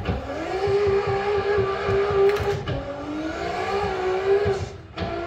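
A 1600 HP Toyota Supra MKIV in a driving video game screams along at high speed with a steady, loud engine tone that shifts slightly in pitch, plus faint tire and road noise. No one talks over it.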